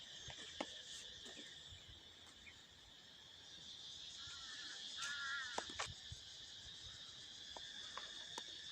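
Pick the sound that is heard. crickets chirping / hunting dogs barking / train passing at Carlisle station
crickets chirping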